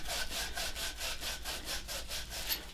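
Sandpaper rubs back and forth on a copper water pipe during a whole-house water filter plumbing install, giving about eleven steady, even strokes close up with no talking.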